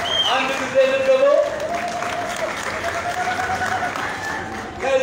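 An audience claps by hand at a ceremony, dense sustained applause that is loudest at first and then settles into steady clapping, with a voice speaking over it at times.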